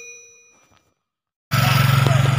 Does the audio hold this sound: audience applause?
no